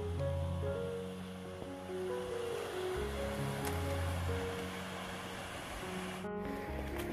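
Waterfalls and a small mountain stream at a backpacking campsite in the Goat Rocks, heard as a steady, full rush of water with no breaks, close and fairly loud, with no talk over it.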